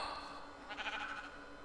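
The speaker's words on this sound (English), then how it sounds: "It is sheep." A sheep in the TerraFirmaCraft mod for Minecraft bleats once, a short wavering game sound over a steady layer of ambient game noise.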